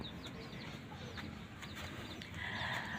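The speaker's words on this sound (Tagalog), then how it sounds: "Mga panibagong manok na alagaan." Chickens cluck and chatter softly over a steady background hiss, with scattered short calls from several birds.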